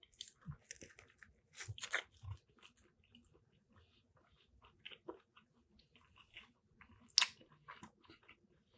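Crisp masala-seasoned fries being chewed close to the mic, with sharp crunchy bites and wet mastication in irregular bursts, pausing between mouthfuls, with a faint voice now and then.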